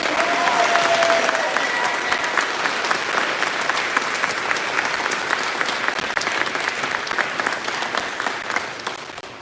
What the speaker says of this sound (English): Let us all give a round of applause to the incredible families